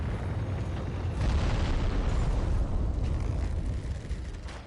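Enemy fire aimed at the player in Dark Souls III comes as a dense, loud, continuous roar of booming blasts that barely lets up throughout.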